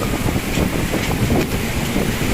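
Strong north wind blowing in a storm over coastal waters, a loud continuous roaring rush with gusty buffeting against the microphone and no voices.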